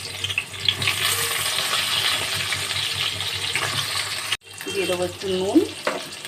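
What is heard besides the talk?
eggplant frying in fish oil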